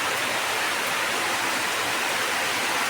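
Heavy rain pours down steadily in a village where children play football, making a dense, even hiss throughout with no voices.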